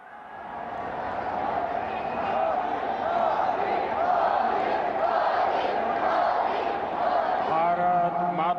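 A large crowd cheers and applauds to welcome Prime Minister Narendra Modi at an event in Bhuj, a dense sustained roar of voices and clapping that holds steady throughout.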